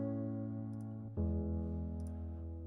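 Muffled Spitfire piano layer with sustained chords that change midway, faint pedal clicks and small noisy mechanical details audible in the background, no voices.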